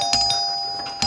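A doorbell rings indoors in a 1990s Hindi family drama, two bright electronic chimes with a clear sustained tone between them, heard alone without talk.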